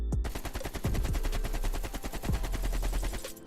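An AK-47 with attachments fires in Call of Duty: Black Ops Cold War, a rapid, loud, continuous automatic burst of closely spaced shots lasting about three seconds with no talk.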